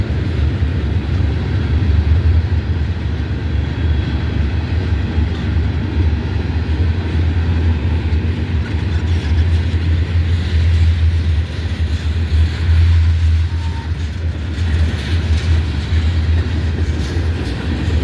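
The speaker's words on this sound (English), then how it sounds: "Manifest is a big freight train" A long BNSF manifest freight train rolls slowly past close by, its deep continuous rumble and rail noise steady throughout with faint wheel clatter.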